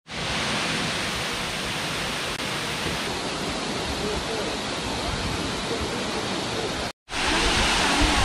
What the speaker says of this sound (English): we're starting off the morning by coming to Namuang Waterfall